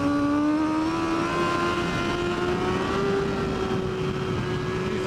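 A superbike engine on a race track pulls hard under acceleration, a loud sustained close-up whine that climbs slowly and steadily in pitch, with no talking over it.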